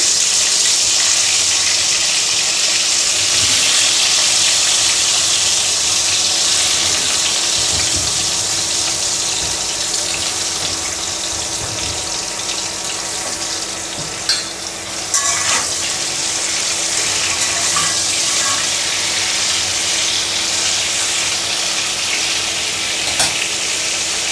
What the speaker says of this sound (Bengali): তেলটা গরম হয়ে গিয়েছে পটলগুলো দিয়ে দিচ্ছি